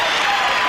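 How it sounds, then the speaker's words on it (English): Arena crowd at a Bulls–Pistons basketball game cheering and applauding as the Pistons leave the court, a dense, steady roar of many voices and clapping with no break. "the crowd is cheering here for the Bulls right now and the Pistons as they leave the court"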